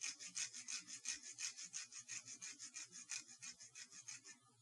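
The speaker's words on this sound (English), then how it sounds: "The idea is just to sand it until you got a point." Pressure treated bamboo meat skewer being sanded to a point, giving a steady rhythmic rasping with about four quick strokes per second, close and fairly quiet, with no voices.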